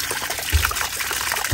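Warm and hot water running steadily from a newly installed Woodford hot-and-cold frost-free hose faucet, a continuous close splashing trickle with a few heavier gushing surges.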